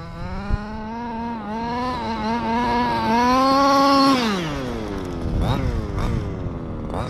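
Small gas engine of an HPI Baja 5B RC car buzzes and revs, pitch rising steadily then dropping off as it spins out, with quick blips afterward, fairly close outdoors.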